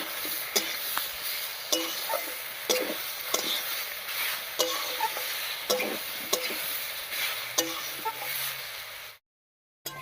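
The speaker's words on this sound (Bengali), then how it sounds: "এবার ফুলকপি আর শিমের সঙ্গে ডালটা একটু নাড়িয়ে নেবো" Lentils are stirred with cauliflower and flat beans in a pan for mixed dal chorchori, a soft background sizzle punctuated by regular scraping and tapping strokes of a utensil against the pan, ending in a brief silence.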